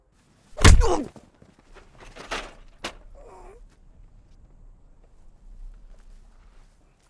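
A kick lands on a person with one loud, heavy thud, followed by fainter shuffling and a short groaning vocal sound.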